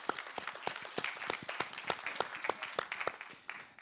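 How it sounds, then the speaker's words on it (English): Conference attendees clap as a speaker is called to the stage, a fairly sparse round of distinct, sharp handclaps from a smallish audience, moderately loud and continuing throughout. "A big round of applause, please."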